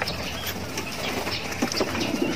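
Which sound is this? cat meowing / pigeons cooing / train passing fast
pigeons cooing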